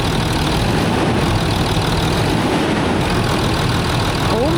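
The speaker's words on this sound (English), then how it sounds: "So he's going to start the engine again" A Land Rover engine idles steadily at close range, a continuous low rumble that holds even for the whole stretch with no pauses.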